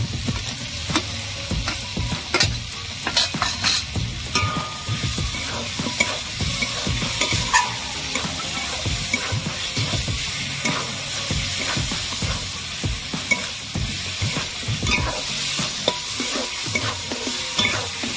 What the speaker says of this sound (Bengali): আলু দিয়ে ভালো করে কষিয়ে নিয়েছি।